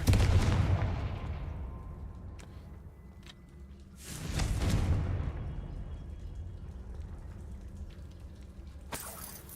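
A Confringo fire spell bursts in Hogwarts Legacy with a deep booming explosion at the start, then a second rumbling blast about four seconds later, both fading into low roaring decay.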